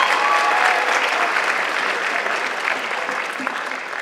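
A high school spring showcase concert audience applauds in a sustained, dense wash of clapping that stays loud and steady throughout, easing only slightly toward the end.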